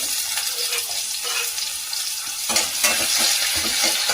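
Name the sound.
onions frying in oil in a pan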